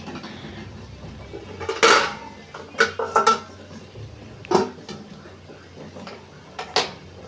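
A metal lid goes onto a cooking pot of chicken adobo in a home kitchen, with several sharp clanks and rattles of metal on metal close by, separated by short quiet gaps.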